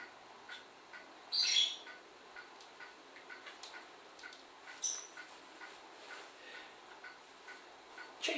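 A pet bird gives a sharp squawk, followed by scattered soft chirps, clicks and a second brief call in a quiet indoor room.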